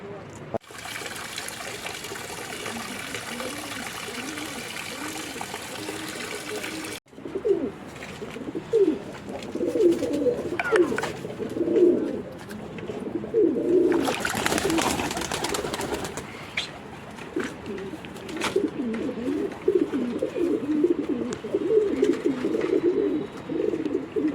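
Pigeons coo in soft rolling repeated calls close by, alongside a trickle of water and a few brief bursts of rustling noise.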